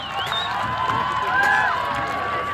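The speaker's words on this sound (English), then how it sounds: "a round of applause for Sir Rion and Squire Stuart, ladies and gentlemen" Crowd cheering and shouting for knights at a 14th-century tourney, with excited voices and whoops rising and falling in a loud, continuous outdoor roar.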